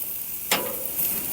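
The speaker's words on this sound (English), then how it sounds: "Man, we grilling right now." Pork on a Monument Grills Mesa II 410FBZ grill over the broil zone gives a sudden loud sizzle burst that fades into a steady crackling hiss, with a second swell near the end and no talk.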